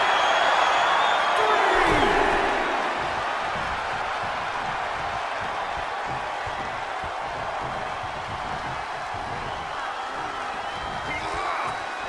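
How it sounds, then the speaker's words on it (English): Loud, roaring wrestling crowd at a live tag tournament, a dense continuous wall of cheering that swells briefly at the start and then holds steady under a commentator's voice. "The sound of this crowd is deafening"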